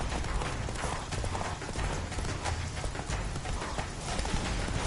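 Roach, Geralt's horse in The Witcher 3, gallops in a dense, fast stream of hoofbeats, loud and close, with game ambience around it and no clear speech.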